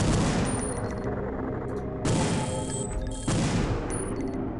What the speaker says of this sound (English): let him shoot. Put a mag into him. Move out of the way, let him shoot,